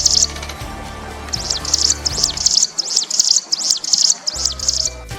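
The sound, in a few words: person imitating a bird call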